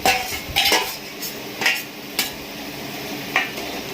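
Food tempered in a pan and stirred after salt is added: clinking metal spoon strikes and scrapes against the pan in uneven bursts over a faint background sizzle, close by and without speech.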